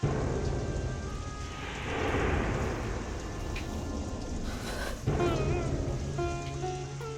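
Heavy rain hisses steadily throughout, with a low rumble beneath and a few faint tonal sounds near the end.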